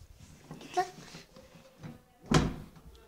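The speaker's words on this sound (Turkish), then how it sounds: "Çocuk kapıyı kapattı dibinde." A single solid thud as a door is pushed shut indoors, heard after scattered voices and shuffling, with the sharp impact standing out near the end.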